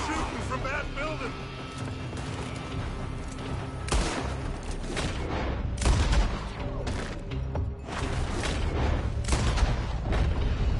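Gunfire crackles in a shootout in Red Dead Redemption 2 as shots come from a building, with bursts of rifle and pistol fire and booming reports scattered over several seconds while people shout over the fighting.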